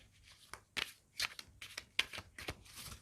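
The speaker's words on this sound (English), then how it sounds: "I'm shuffling the cards now for you for the week." Tarot cards are shuffled by hand in a series of quick crisp riffles and slaps, close and fairly quiet, spaced irregularly across a few seconds.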